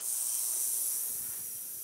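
An ultrasonic cleaner runs nearby while a Honda 400EX ATV carburetor soaks inside, giving a steady high-pitched hiss with a faint low rumble underneath and no talking.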